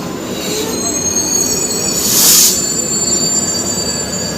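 A Puri–Howrah Superfast Express train passes close by, with steady loud rolling rumble of wagons and a sharp high wheel squeal swelling for a moment in the middle.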